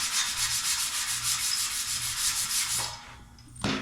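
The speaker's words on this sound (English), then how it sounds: "We're going to do a little sanding on" Steady rhythmic rasping of sandpaper rubbed back and forth on wood, close and fairly loud, stopping near the end with a brief knock.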